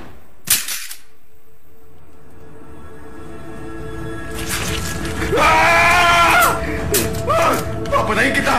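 A single sharp gunshot cracks out early in a dubbed movie scene, followed by quieter background and then loud, agitated voices speaking and shouting.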